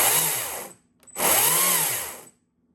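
A Stihl MSA 140 C battery-powered chainsaw with a freshly replaced chain runs in two close, loud bursts, each spinning up to a steady whine and winding back down, with a short pause between them and silence at the end.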